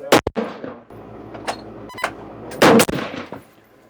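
Rifle fire from a 22 Creedmoor loaded with 175 LRX bullets: two sharp, loud cracks, one near the start and one later, each followed by a ragged echoing tail at an outdoor range.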